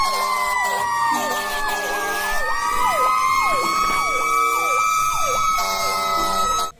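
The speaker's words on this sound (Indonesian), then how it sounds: "ini adalah mobil pemadam kebakaran" Toy fire truck siren wailing in a steady repeating up-and-down pattern, loud and close, running continuously without any talk over it.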